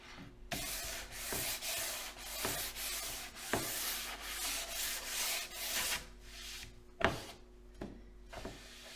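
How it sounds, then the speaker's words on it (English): Lighter-grit sanding block rubbed by hand across a pine surface, a steady rhythm of close, soft scratchy strokes, about a dozen passes with brief pauses. "I have another sanding block that has a lighter grit and you can hear a little roughness"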